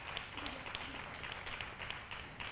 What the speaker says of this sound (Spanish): Si quieres darle un aplauso al Señor